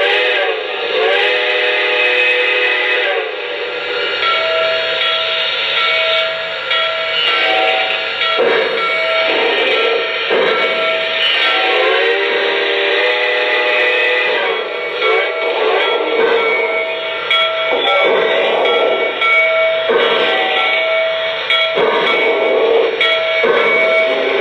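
A Lionel Canadian Pacific 4-6-0 model steam locomotive pulling an excursion train chugs along while its whistle sounds repeatedly in long, sustained tones, loud and close, with mechanical rattling underneath.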